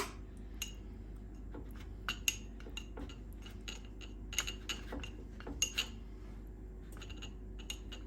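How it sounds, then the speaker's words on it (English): A spoon stirs chocolate mug cake batter with yogurt in a ramekin, making repeated light clinks and taps against the dish over a low steady hum, faint and close, without talking. "And then you want to give this another stir."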